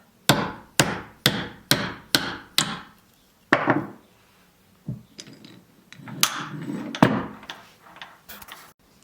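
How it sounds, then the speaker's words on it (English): Sharp metal taps from a hammer on a tightened disc cutter punching shapes from sheet carving wax, six quick evenly spaced knocks then a louder single strike, followed by scattered clicks and light handling clatter up close. "I'll gently tighten this and give this a tap."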